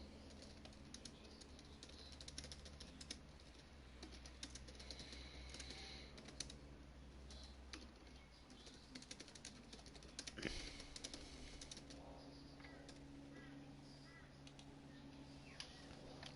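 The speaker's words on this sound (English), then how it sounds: "Typing something to a group that I'm part of" Rapid, uneven keystrokes on a computer keyboard, close and fairly quiet, running continuously as a message is typed, with occasional faint chirping in the background and no talking.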